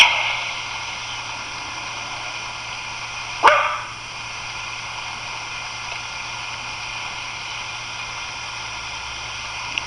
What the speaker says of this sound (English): He's barking at the guy with the goddamn sheep.